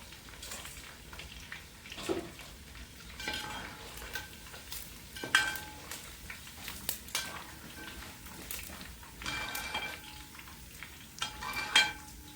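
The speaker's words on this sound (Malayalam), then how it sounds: "ഞാനിത് വറുത്ത് ഇത് കോരിയെടുക്കാൻ പോവാം." Steady crackling of chicken deep frying in oil, with occasional clinks and scrapes of a utensil against the pot; no voices.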